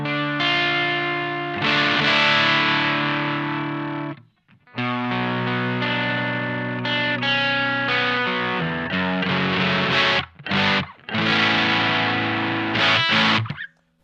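An electric guitar played through a Mad Professor Little Green Wonder overdrive pedal, with sustained distorted chords and riffs, a few brief pauses between phrases, and no voices.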